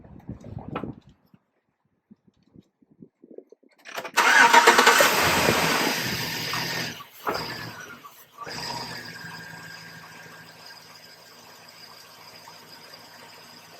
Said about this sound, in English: Let me give her a quick crank before I put the air box back on.